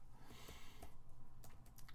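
Light clicking keystrokes on a computer keyboard, quiet and fairly steady, in a short burst of typing with no voices.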